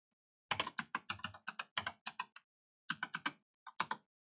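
Keystrokes on a computer keyboard while a username is entered during a Debian 12 installation in a VirtualBox virtual machine, in two quick bursts of close, crisp taps separated by a short pause.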